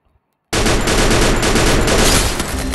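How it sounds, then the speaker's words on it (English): Sustained burst of rapid gunfire in the Free Fire battle royale game, erupting suddenly after a brief near-silence and continuing loud and dense throughout. "Somewhere firing is happening"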